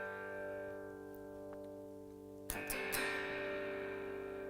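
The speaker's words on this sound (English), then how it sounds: "I actually just kick my verb and delay both off completely, and I'm just kind of doing some accented chords." Electric guitar with reverb and delay switched off, strumming simple accented chords in a studio worship song setting: a sustained dry chord ringing, then a few sharp strummed accents near the end.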